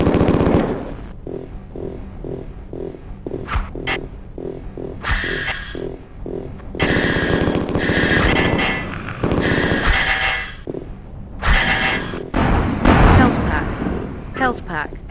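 Rapid gunfire bursts from the 1995 first-person game Mortal Coil: Adrenalin Intelligence, repeated shots and explosions over game music, loud and close, with voices in between.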